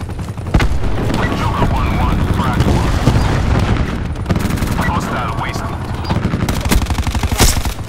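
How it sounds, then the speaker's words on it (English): Loud, continuous barrage of cluster grenade blasts and gunfire in the Call of Duty Black Ops video game, dense booms rolling across the whole stretch with sharper cracks near the end, radio chatter faintly underneath. "Cluster grenade going out."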